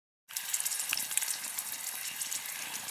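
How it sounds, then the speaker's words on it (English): Chicken frying in a pan on a camping stove outdoors on Dartmoor, a steady close hiss and sizzle that starts abruptly and continues evenly without talk. "I've been frying my chicken, so in a minute I'm going to add some rice and then some sweet and sour sauce."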